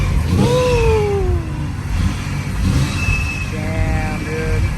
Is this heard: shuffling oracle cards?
no